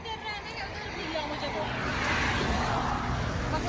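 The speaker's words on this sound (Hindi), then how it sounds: "आवाज़ तो ट्रैफिक की आ रही है ना, मतलब व्हीकल्स की" Road traffic with passing vehicles makes a steady, broad rumble and hiss that swells slightly as one goes by, with indistinct voices murmuring underneath.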